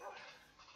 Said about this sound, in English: A dog.